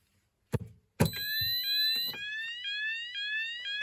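A fire alarm kicks in after a couple of thumping knocks, its electronic tone sweeping in a repeating rising-and-falling whoop, loud and steady in a quiet room.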